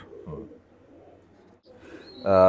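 Pigeons imported from Dubai murmur softly in a loft with low, intermittent cooing, ending in a sudden louder, tonal call.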